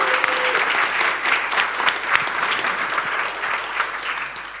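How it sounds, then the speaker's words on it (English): A conference audience gives a round of applause for a speaker about to talk on FinOps data, sustained even clapping from many hands in a hall, with faint voices beneath. "please, a round of applause"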